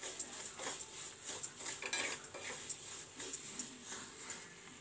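Semolina (suji) fried in ghee in a pan for suji halwa, a utensil scraping and clinking against the metal in a steady, close run of light strokes, with no talk.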